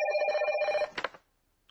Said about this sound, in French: Réponds au téléphone, tu veux?